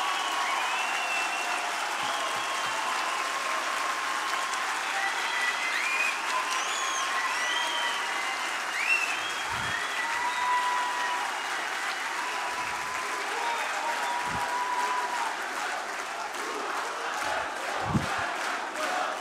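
A large audience at a liberty forum applauds a speaker steadily for nearly twenty seconds, a dense, even wash of clapping with a few faint shouts mixed in.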